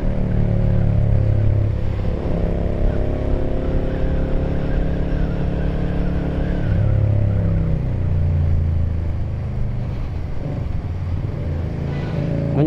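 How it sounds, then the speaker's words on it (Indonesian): A Keeway V250FI motorcycle engine on its stock exhaust, loud and close, with a deep throbbing idle that rises in a couple of throttle blips and settles back, no voices over it. "memberikan suara yang sangat racing seperti ini ya, kayak knalpot racing. Padahal ini knalpotnya masih standar."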